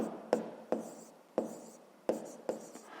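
Numbers are written by hand while solving a fifth-grade math exercise: five or six quick, close scratching pen strokes on paper, each a short sharp tap fading into a soft scrape, in a quiet room.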